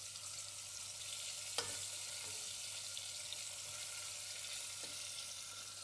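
Tomato puree cooking gently in a pan, giving a soft steady sizzle with a couple of faint clicks, quiet and with no talk.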